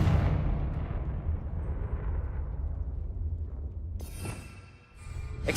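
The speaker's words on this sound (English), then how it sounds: "Confringo!" A Confringo explosive spell cast in Hogwarts Legacy gives a sustained, loud fiery rumble with a crackling burst that rolls on for several seconds. A sharper crack lands near the end.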